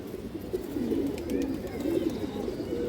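Giribaz high-flyer pigeons coo in a run of soft, low, throaty calls, close by and steady, with light background noise and no talking.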